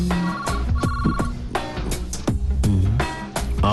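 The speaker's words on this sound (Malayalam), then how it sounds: "phone anti phone" A telephone bell rings in a Malayalam comedy film scene, its repeated bursts of ringing mixed into a loud, busy music score.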